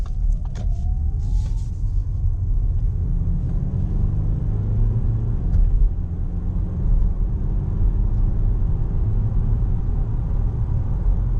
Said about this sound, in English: it turned on the fuel engine because I was going fast